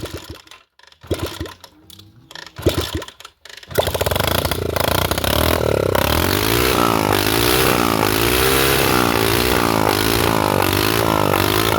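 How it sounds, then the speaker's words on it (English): A few sputtering attempts, then a 2019 Bull Qipai motorcycle engine catches and runs loudly, its rough revving rising and falling up close. "So as you've just heard, the motorbike"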